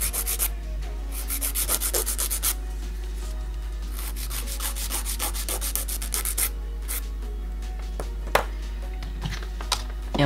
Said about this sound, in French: j'hésite pas à limer sur le dessous comme ça pour que ça soit bien droit